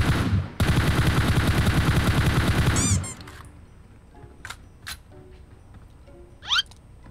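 A rapid automatic burst of PUBG Mobile gunfire is heard up close, then it stops and is followed by scattered squeaks and a few short sharp game sounds.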